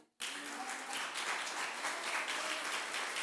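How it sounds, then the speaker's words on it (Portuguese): Church congregation applauding after a sermon, a dense steady wash of clapping that starts abruptly and holds at an even level throughout, with faint voices and cheers mixed underneath. "Então dê um aplauso para ele."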